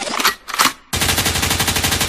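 Gunfire sound effect within a song: two short bursts, then a loud, sustained rapid machine-gun volley, close and dense, with no talk.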